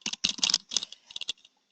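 Quick bursts of clicky keystrokes on a computer keyboard, close and crisp, typing an address in uneven clusters with short pauses, no voices.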